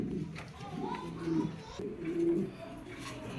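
Pigeons, racing-line Spanish pouters kept in a loft, give low repeated coos close by, with a voice talking in the background.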